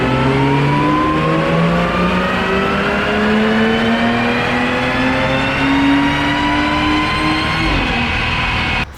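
A car on a chassis dyno running on Petro Canada Ultra 94 pump gas, its engine pulling one long steady climb in revs, loud and close, then cutting off sharply near the end.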